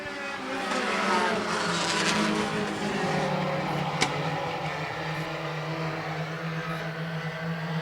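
Race cars roaring around Sweatt's Concrete Thunder concrete oval in a close battle for the lead, a loud continuous engine drone with pitch swelling and fading as the pack passes, no talk.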